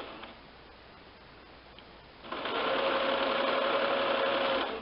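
A sewing machine stitches a cushion cover with English eyelet embroidery trim, starting after about two seconds of quiet and then running as a steady, fairly loud mechanical whir with a tick-like rhythm.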